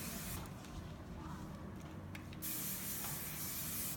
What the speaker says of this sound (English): then I keep spraying to get all those loose ends